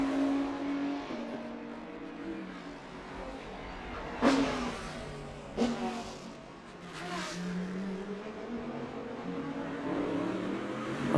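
V8 race car at the Bangsaen GP street circuit climbing a bumpy hill section under throttle, a steady loud engine drone with rising and falling revs and several sharp bursts as it shifts or hits bumps.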